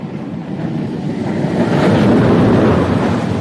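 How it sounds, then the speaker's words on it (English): An empty roller coaster train at Busch Gardens Tampa rushes past as a loud, broad roaring whoosh that swells toward the middle and stays strong to the end, with no voices. "Empty train."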